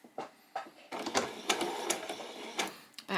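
A sewing machine stitches a headband hem in short, uneven bursts of close mechanical whirring and clatter, stopping and starting several times.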